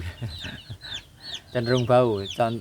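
Young chicks in a coop being raised on factory feed, with close, busy clucking and chirping and a louder, sustained burst of calls toward the end.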